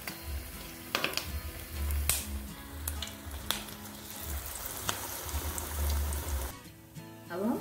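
Green chillies coated in besan batter sizzle and crackle loudly in hot oil as mirchi vada fry, with a steady close hiss, occasional sharp pops and a low rumbling bubbling.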